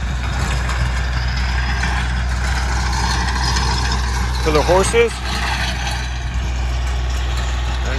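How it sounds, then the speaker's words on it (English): New Bobcat tractor pulling an Alabama rototiller through yard soil for a horse riding arena, a loud, steady, low engine drone throughout with a brief voice speaking over it midway. "And now we're just going over it with the rototiller, try and loosen up those big furrows from the plow"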